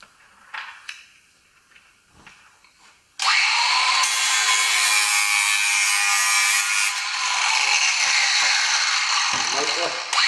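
A power tool blade trims the flange of a GRP roofing install, starting abruptly after a few seconds of quiet background and then running loud and steady, close up, until the end.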